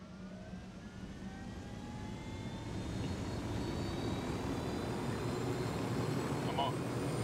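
Aircraft engine of a piloted vehicle in Ghost Recon Wildlands, a steady droning hum that swells slightly as it builds, continuous and moderately loud, with speech over it.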